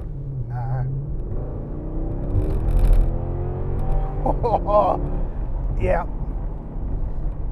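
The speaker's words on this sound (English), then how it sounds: "That noise is what an AMG is all about." A powerful Mercedes-Benz C63 AMG engine rumbles and revs steadily throughout, swelling louder midway as it accelerates, while a couple of people exchange brief words over it.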